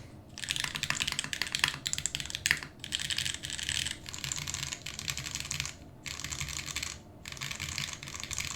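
Rapid, continuous clacking of keys on a mechanical keyboard, close and crisp, in bursts separated by brief pauses.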